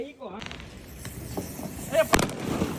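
Diwali firecrackers go off amid festive chatter, with a few scattered pops building to one sharp, loud bang near the end, close by, under overlapping voices.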